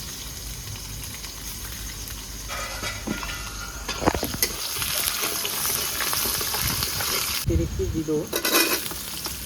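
Garlic cloves and ginger frying in a pan with whole cumin and chilies, steady sizzling with bursts of louder spattering and clinks of a spoon against the pan, close, as someone briefly speaks.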